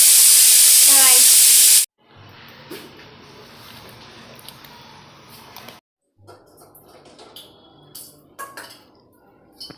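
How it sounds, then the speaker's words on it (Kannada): A tempering of seasonings hits hot oil for dal with a loud, bright sizzling burst. The hiss then drops to a quieter crackle with light kitchen clinks. "ನೋಡ್ರಿ ನಾ ಬ್ಯಾಳಿಗೆ ಒಗ್ಗರಣೆ ಕುಡ್ಲಿದ್ದೀನಿ."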